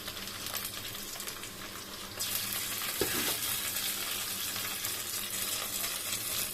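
Garlic paste dropped into hot oil with fried onions, the close frying hiss swelling louder partway through, with a brief knock and stirring scrapes under a steady sizzle.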